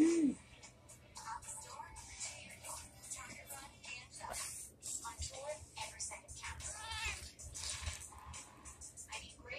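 A cat meows several times, with short, faint, wavering cries scattered through the stretch, mixed with people talking and laughing nearby.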